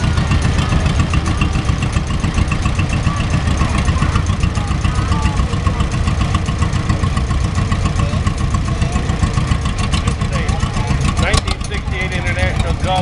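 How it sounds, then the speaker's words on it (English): Steady, loud running engine of a vintage tractor in a tractor parade, including a 1947 Allis-Chalmers B, a continuous low rumbling chug held throughout, with a voice talking over it. "Here we have a 1947 Alex Chalmers B."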